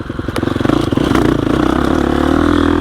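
A 2021 Gasgas EX 350F off-road motorcycle pulls in second gear, its engine revving loud and close with a steady, throbbing rhythm. No voices are heard.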